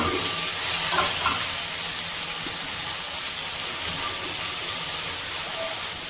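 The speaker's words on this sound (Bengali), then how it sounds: "গ্যাসের ফ্লেমটা লো টু মিডিয়ামে রেখে কুলগুলো তেলের মধ্যে 3 থেকে 4 মিনিট মতো ভেজে নিচ্ছি।" Jujube berries (kul) fry in oil in a pan over a low-to-medium gas flame, giving a steady soft sizzling hiss with faint crackles throughout and no talking.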